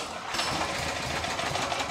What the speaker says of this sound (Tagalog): Pwede pong sa pamamagitan ng recoil starter o sa paghila, kagaya po nito